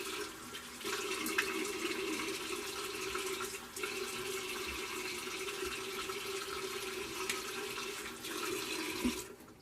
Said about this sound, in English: Let me rinse that alum off in just a second.